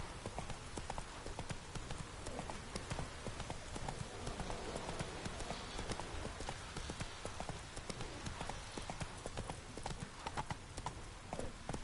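Horse hooves clip-clop at a steady trot in the video game Witcher 3, a dense, continuous run of close, fairly loud hoofbeats over a rain-like ambient wash with no talking.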